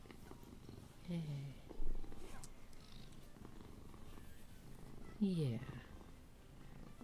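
A pet cat purrs softly and steadily up close, with two brief chirping meows. A person speaks quietly now and then over the purring.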